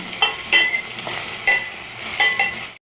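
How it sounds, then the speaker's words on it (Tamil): Onions sautéing in a pan for Chettinad egg curry: a bright continuous sizzle broken by several sharp spoon scrapes at a steady pace, close and loud, ending abruptly in silence, with no talking. "வெங்காயத்தை நல்லா வதக்கிக்கலாம்"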